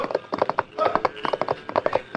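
Hooves of a galloping horse as a rider spurs forward, a radio drama sound effect: a rapid, loud, close clip-clop rhythm that runs steadily throughout.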